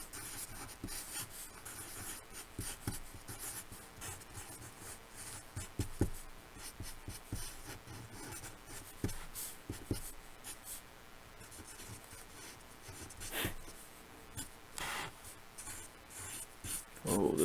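Pencil drawing heads on paper: quick scratchy strokes and rubbing in irregular bursts, close and fairly quiet, with occasional louder sweeps and no talking.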